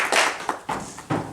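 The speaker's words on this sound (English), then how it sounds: "let's clap for" A small group claps on a reality competition show, with a few separate, close bursts of hand claps spaced unevenly over a second.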